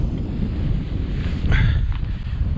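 Side wind gusting across an outdoor microphone while fishing for river fish on a frosty riverbank, a steady broadband rumble that swells slightly midway, continuous and close.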